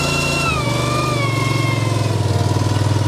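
The engine of a Westermann Cleanmeleon CM2 cleaning machine, set on cold start with choke, catches and settles into a steady, close, pulsing idle after a brief falling whine.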